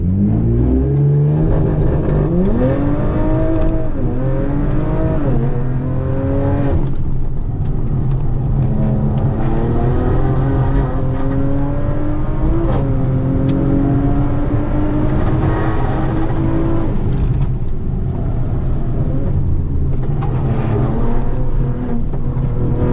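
Race car at a hillclimb at Mount Panorama, engine loud and close, climbing in pitch through repeated revs with several gear shifts, sustained throughout with no talk.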